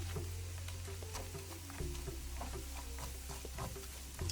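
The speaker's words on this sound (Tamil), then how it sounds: "இந்த மஞ்சளை வந்து இந்த நெய்யில் நல்லா ரோஸ்ட் பண்ணும். இந்த மாதிரி லோ ஃப்ளேமில் பொறுமையாக இதை நல்லா ரோஸ்ட் பண்ணி எடுங்க." Fresh turmeric roasts in ghee in a pan over a low flame, giving a quiet, steady sizzle with faint scraping and stirring clicks throughout.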